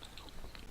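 A brief, faint crunching chew from a character in the video game Alan Wake, a quick run of soft bites sitting low under a hissy game background.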